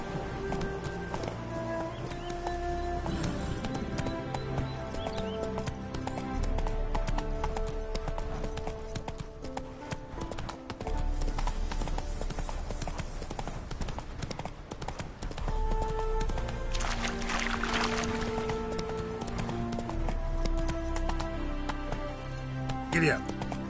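Horse hooves clip-clop in a steady galloping rhythm in the Witcher 3: Wild Hunt video game, loud and continuous under a dense bed of game music and sounds.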